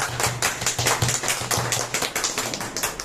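Quick, irregular hand claps from a small group indoors, bursts of sharp slaps continuing steadily throughout without speech.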